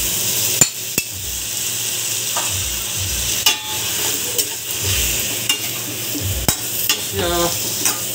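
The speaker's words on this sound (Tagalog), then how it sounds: "So, isunod na natin yung panga ng tuna." A yellowfin tuna jaw is added to a pan with kamias and sizzles steadily, with scattered clanks and scrapes of a utensil against the pan throughout and no voices.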